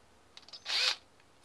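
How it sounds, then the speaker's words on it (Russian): A tube is twisted through a piece of foam plastic to bore a hole for a fishing float, giving a few faint scratchy ticks and then a brief, louder squeaking rasp of about a third of a second. "трубочкой просверливаем отверстие"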